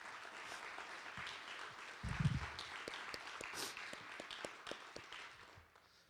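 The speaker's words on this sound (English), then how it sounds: "can we give a round of applause and thank you to Mr. Nathan Morrell and the rest of the suicide prevention team" A community audience gives a round of applause for a suicide prevention team at a mental health awareness gathering, a faint, distant patter of many hands with a few sharper claps, steady for several seconds before fading.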